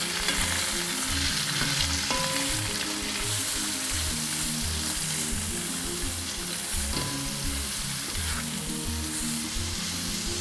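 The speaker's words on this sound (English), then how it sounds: "Then we're going to give it a stir." Chicken stir fry with chili flakes fries in a pan with a dense, continuous sizzle, while a utensil stirs and scrapes in a steady rhythm underneath, with no talking.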